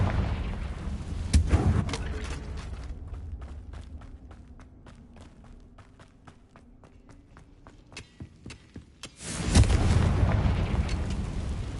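A Confringo fire spell from Hogwarts Legacy bursts with a heavy explosive boom, then a rapid run of crackling pops and impacts before a second loud blast swells near the end.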